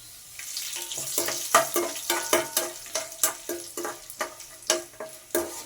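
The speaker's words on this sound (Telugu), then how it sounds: "చూడండి, మిరపకాయలు కూడా మంచిగా వేగిపోయినాయి కదా." Dried red chillies frying in hot oil for mango rice, a close crackling sizzle broken by a rhythmic series of sharp spatula stirs and scrapes against the pan.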